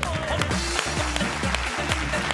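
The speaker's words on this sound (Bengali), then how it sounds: "জোরে হাততালি।" A studio audience on a Bengali TV game show claps loudly, a dense run of hand claps filling the room without pause.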